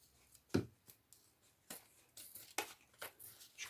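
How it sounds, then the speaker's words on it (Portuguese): Scissors snipping through fabric piping while trimming excess on a sewn Birdie lunch bag, several short crisp cuts spaced irregularly, close and fairly quiet. "Já podemos cortar o vivo."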